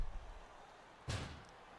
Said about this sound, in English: Smacks it down to the face of Sabu